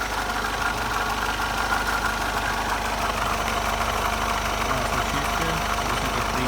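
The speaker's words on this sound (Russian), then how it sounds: "Мотор работает мягенько." A 2.2 CDi car engine idles smoothly, a steady close-up rumble with an even, unbroken drone and no voices.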